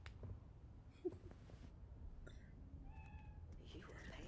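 A cat in Cyberpunk 2077 meows once, a short faint call under steady game ambience and a person talking.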